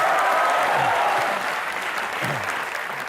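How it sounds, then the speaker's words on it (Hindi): Studio audience on a Hindi comedy talk show applauds steadily and loudly for two guests, a dense, continuous clapping that holds for the whole stretch with a slight easing near the end and no talking over it. "दोनों के लिए जोरदार तालियां।"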